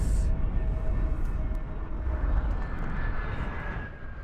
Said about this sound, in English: we do have a plane coming in right behind us